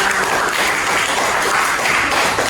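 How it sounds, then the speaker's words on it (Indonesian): Students in a classroom clap together in a loud, dense burst that holds steady for a couple of seconds, with a faint pulsing rhythm running through it. "beri tepuk tangan"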